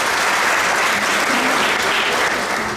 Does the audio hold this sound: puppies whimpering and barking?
no